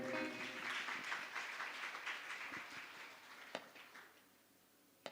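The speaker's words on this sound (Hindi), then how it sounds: "एक बार ताली बजा दीजिए।" An audience claps steadily at a Hindu religious discourse, a Bhagavat Katha gathering at an ashram, the applause a dense sustained patter that gradually fades out.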